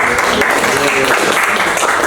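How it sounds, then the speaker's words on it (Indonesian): Applause from pupils in a classroom at the close of a microteaching lesson, a dense steady patter of many hands filling the whole stretch with some voices mixed in. "Tepuk tangan dapat."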